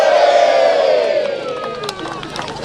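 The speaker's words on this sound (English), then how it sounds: "get to 0, we'll have a big cheer" A crowd gathered at the grand opening of the Marston Marshes easy access path gives a big practice cheer, a loud sustained roar of voices that gradually tapers off.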